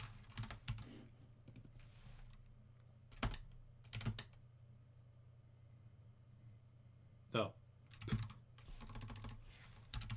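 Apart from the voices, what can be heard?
typing on a computer keyboard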